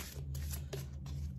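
Tarot cards being shuffled by hand, a brief close run of soft riffling and flicking strokes in quick succession.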